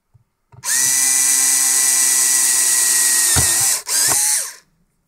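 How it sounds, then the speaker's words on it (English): A power drill starts up and runs at a steady high-pitched whine, dips for a moment, then spins again briefly before winding down; a 2 mm bit drilling holes in an LED heatsink. "Okay, let's drill those."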